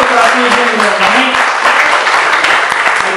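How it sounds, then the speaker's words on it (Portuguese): A church congregation applauds in a dense, loud, steady wash of clapping throughout, with voices mixed in. "Dê um aplauso ao Senhor"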